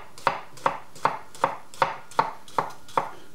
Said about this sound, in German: Zwiebel, die schneide ich in feine Würfel.